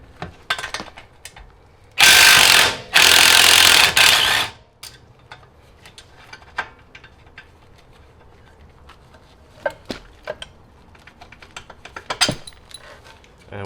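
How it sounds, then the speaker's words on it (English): An impact tool zaps off a 17 mm bolt and nut from a car's rear camber arm: two loud, sustained hammering bursts about two seconds each, then scattered metallic clinks and ratchet clicks of tools. "If you have an impact tool, go ahead and grab it."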